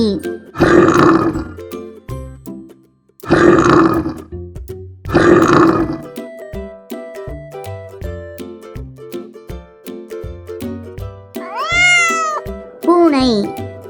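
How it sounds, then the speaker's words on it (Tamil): Three loud, deep growling bear roars come in separate bursts, followed by a couple of shorter, higher cat-like calls, with a light musical backing throughout. "கரடி,"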